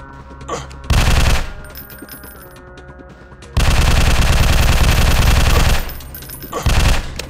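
Video game Fire Strike gunfire: loud rapid machine-gun bursts in two long runs and a short final burst, close and harsh, with quieter game sounds between.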